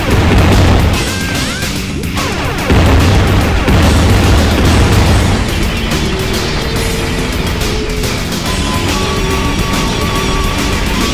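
A loud, dense barrage of gunfire, booms and crashes from a boss fight in the platform game Jazz Jackrabbit 2, with electronic tones and explosions layered over continuous game music.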